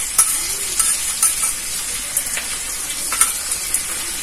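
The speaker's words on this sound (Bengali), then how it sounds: "এবার এগুলো ভালোভাবে নেড়ে নেব।" Chili soybean chunks sizzling loudly in a pan with soy sauce, green chili sauce and tomato sauce as they are stirred, a steady crackling fry punctuated by brief scraping clinks of the spatula, close and without voices.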